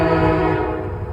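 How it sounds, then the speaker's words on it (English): A westbound CSX mixed freight train led by an SD70MAC diesel locomotive sounds a loud, sustained horn blast close by, the horn's steady chord dominating over the rumble of the passing train. "We got the train coming."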